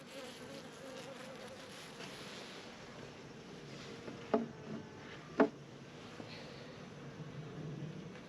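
Honey bees buzz around a hive in a soft, continuous drone, with a couple of brief louder passes close by against the faint hum of the swarm.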